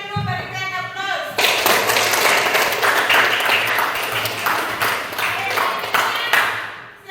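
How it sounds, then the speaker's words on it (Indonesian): A classroom group breaks into sustained clapping after a presentation, a dense burst of many hands starting sharply and carrying on for several seconds, with a teacher's voice speaking just before it begins. "silakan dulu berikan aplaus"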